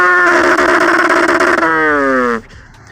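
A human voice imitates an idling rotary engine, producing a loud, close, raspy buzzing drone that bends downward in pitch before cutting off abruptly.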